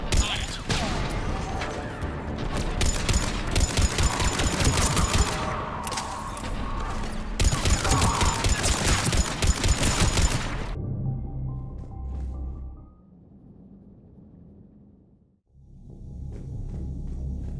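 Cannon fire from the Mass Effect 3 video game booms in rapid, loud volleys with crashing rumbles for about ten seconds, then the battle drops to a quieter low rumble with a brief lull.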